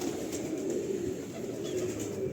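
A pet pigeon coos softly and continuously at close range in low, rolling murmurs, with faint background noise.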